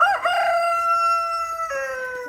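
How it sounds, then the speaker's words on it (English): A second rooster crows loudly and close by at a rural barndominium build site, one long drawn-out call with a pitch drop near the end, over a quiet background. "And there's our other rooster."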